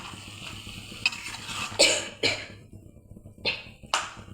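Brinjal bharit stir-fried on a low gas flame, with a soft sizzle under several scraping strokes of a spoon against the pan spaced about a second apart, fairly close and moderately loud.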